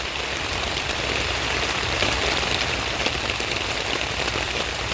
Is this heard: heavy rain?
yes